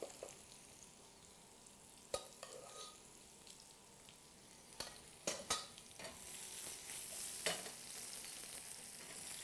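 Potatoes, farro and a zucchini and black-pork pancetta soffritto stirred together in a bowl, giving soft scraping and a few sharper clacks of the utensil, close and quiet.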